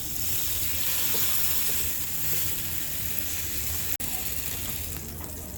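A single slice of clean bacon substitute fries in a pan with a steady close sizzle and crackle, unbroken except for one brief dropout.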